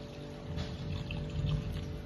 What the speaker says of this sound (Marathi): पाणी सोडणार आहे 1 तांब्या।